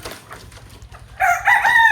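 A native country rooster crows loudly and close by in an enclosed poultry pen, the crow rising after a quieter stretch of faint clucks and rustling.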